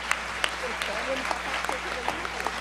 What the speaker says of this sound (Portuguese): pediria uma salva de palmas que ela faz aniversário hoje